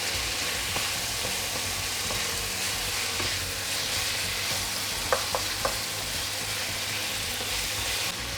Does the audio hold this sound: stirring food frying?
yes